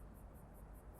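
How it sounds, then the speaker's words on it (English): Cicadas chirp outside at night, a faint, steady train of high, rhythmic pulses over a soft background hiss, with no voices. "I can hear the cicadas outside."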